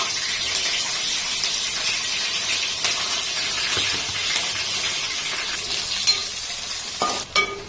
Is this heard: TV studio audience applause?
no